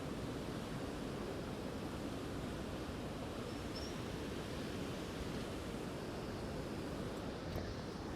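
A river rushes past a riverside spot on the Langtang trek in Nepal, near Lama Hotel, making a steady, full, broadband roar of flowing water that holds constant throughout with no pauses.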